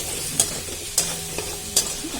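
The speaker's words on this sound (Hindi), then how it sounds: "तो और 1 मिनट के लिए इसको हम भून लेंगे।" Jackfruit seed curry frying in a pan with masala, a continuous soft sizzle punctuated by three sharp scrapes of a spoon stirring, close and alone.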